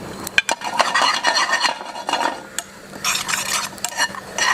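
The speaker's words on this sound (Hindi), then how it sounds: "सबसे पहले हम जीरे को भून लेंगे।" Cumin seeds are dry-roasted in a hot pan with no oil, stirred with a utensil that gives a close, gritty scraping and rattling in uneven strokes.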